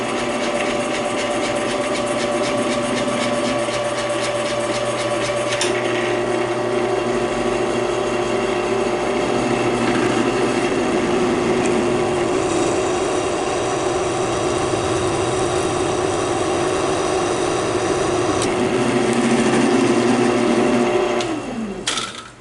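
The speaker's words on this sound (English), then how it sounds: "let's drill these holes. I've lined up the drill bit with the hole in the plate here so that hopefully I don't drill a hole through my drill press." A drill press bores holes through a steel vise adapter plate for a welding table, giving a steady loud motor whine with a cutting drone that rises toward the end and then winds down abruptly.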